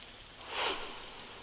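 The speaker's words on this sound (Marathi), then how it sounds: "मध्यरात्रीपासून जोरदार पाऊस सुरू आहे" Heavy monsoon rain in Vasai-Virar pours down as a steady dense hiss, swelling briefly louder midway, with no voices.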